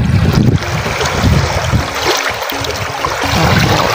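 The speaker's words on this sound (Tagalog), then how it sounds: "malakas yung hangin talaga dito" Strong wind at Marsh Lake buffets the microphone with loud, continuous rumbling gusts, mixed with faint water and wave sounds nearby; no voices.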